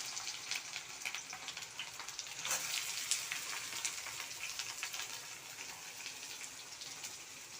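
Chopped onion frying in a pan gives a steady, soft sizzle and crackle that continues without a break, with a brief louder burst partway through and no talking.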